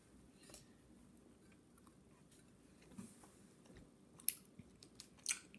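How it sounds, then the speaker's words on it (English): Someone bites into and chews a hot melted Sour Key candy, producing faint, sparse wet chewing and sticky crunch sounds, with a few sharper bites near the end. "But I'm gonna take one bite out of it."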